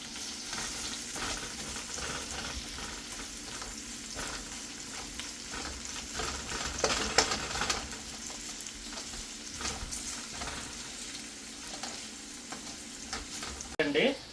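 Onions frying in a pan for multi-colour noodles give a continuous close sizzle and crackle, with occasional stirring scrapes and a louder clatter near the end, and faint voices in the background.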